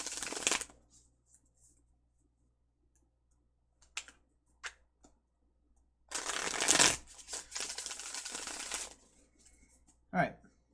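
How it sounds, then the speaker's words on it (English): Tarot cards shuffled in short bursts: a brief riffle, a few soft taps, then a longer busy shuffle and one final quick flick, with quiet gaps between. "I'm going to give this a few more shuffles here"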